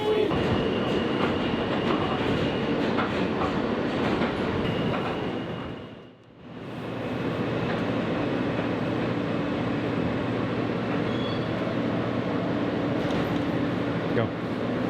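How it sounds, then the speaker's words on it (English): Continuous rumble and rattle of a moving train in New York heard from inside a car, with a brief lull midway and faint voices under the noise. "We're on the train."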